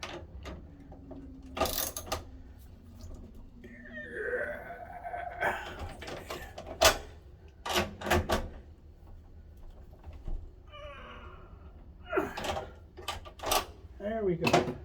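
A ratchet socket wrench turns 11 millimeter bolts on EG4 6500EX solar inverter wiring, with a few bursts of close, sharp clicking and mechanical clatter and a person talking between them.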